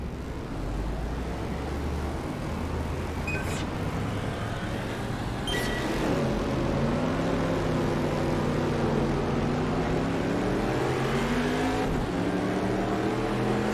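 A stadium super truck races in Automobilista at Adelaide, its engine droning steadily with rising and falling revs through gear changes, loud and close, with sharp clacks near the start.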